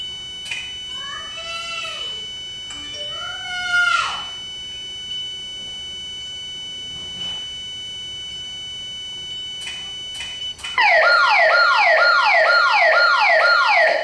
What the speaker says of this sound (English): you can hear the countdown before it's going to set off the security system.